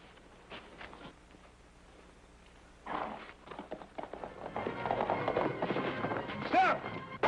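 Horse hooves clip-clop on a trail in a 1951 Western, with a sheriff's posse riding off; the hoofbeats grow louder and busier in the second half, mixed with other commotion and talk.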